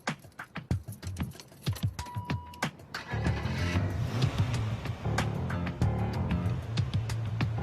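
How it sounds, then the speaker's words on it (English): A car is started with stolen generic keys that jangle and click in a rapid series of sharp taps, then the engine cranks and catches at about three seconds and settles into a steady idle rumble. "he now starts the car."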